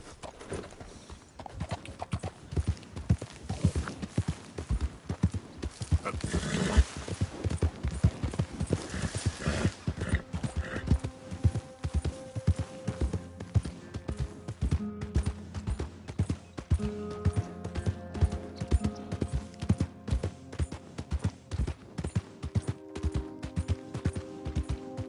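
Horse hooves clip-clopping steadily in Red Dead Redemption 2, a long run of rhythmic close hoofbeats on ground with an occasional neigh, fairly loud and with no talk over it.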